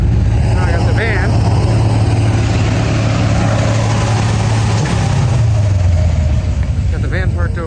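A van engine idles with a steady low hum under loud talking, a faint shift in pitch near the end.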